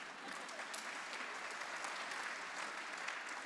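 An audience at a university business school class celebration breaks into sustained applause, a dense, even wash of many hands clapping at moderate distance with no talking over it.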